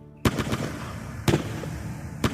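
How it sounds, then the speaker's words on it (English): Three sharp gunshots ring out about a second apart as police fire on fleeing unarmed protesters, each a sudden crack over a noisy, crowd-like background. "Gunshots ripped through the backs of unarmed protesters as they fled."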